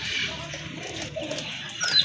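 A pair of pigeons kept for sale coo softly nearby, low rolling calls running steadily through the moment with a brighter chirp near the end.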